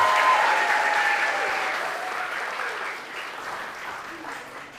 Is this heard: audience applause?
yes